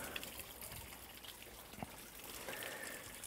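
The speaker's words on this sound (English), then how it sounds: "This is a waterfall." A small waterfall in an outdoor sculpture garden in New Zealand gives a faint, steady trickle and splash of falling water, alone and distant, with no voices.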